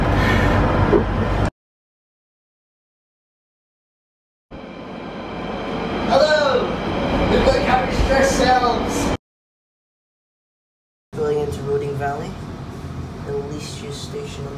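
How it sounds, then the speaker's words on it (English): Inside a busy London Underground Central Line train: rumbling, squealing wheels and rattling carriage noise, broken by two stretches of silence, with people talking over it. "we're on a very busy Central Line train"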